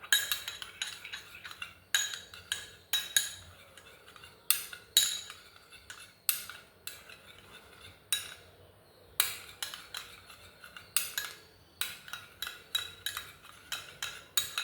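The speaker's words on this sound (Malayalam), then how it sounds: "ഇനി ഇതിനെ നമുക്കൊന്ന് നന്നായിട്ടൊന്ന് മിക്സ് ചെയ്യാം" Spoon stirring a milk and face powder mixture in a small bowl, quiet close clinks and scrapes in quick irregular bursts with short pauses between.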